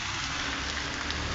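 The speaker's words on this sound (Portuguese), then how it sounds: "Chuva maravilhosa nesse momento aqui em IDC." Steady afternoon rain pours in Irecê, Bahia, in the sertão backcountry, a dense, continuous hiss of drops with no voices over it.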